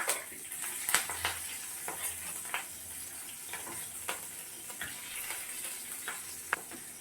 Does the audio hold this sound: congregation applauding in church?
no